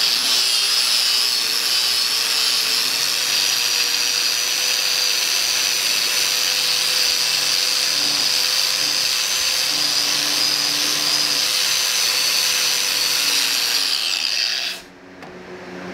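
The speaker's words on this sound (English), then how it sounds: "I got a big box fan running, so you're probably hearing quite a bit of jet engine noise," A big box fan runs in a workshop during cleanup of a rusty cast-iron Craftsman table saw top, giving a loud, steady whooshing drone that cuts off abruptly near the end.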